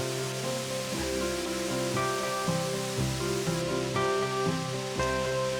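A waterfall in Nakhon Nayok, Thailand, pours in the rainy season with a constant dense rush, partly masked by steady music playing over it.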